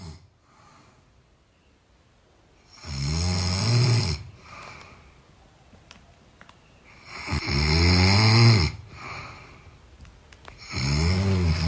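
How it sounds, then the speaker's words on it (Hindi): Loud, rasping snores repeat slowly every few seconds, each long and throaty, with quiet breathing between them, close by. "कल रात को ये सोया था मेरे साथ और इतनी भयंकर खर्राटे मारे"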